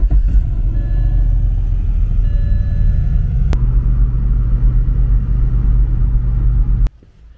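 A vehicle's engine idles and rumbles steadily nearby in a workshop setting before it is driven off for a wheel alignment. The low drone runs unbroken, then cuts out abruptly near the end.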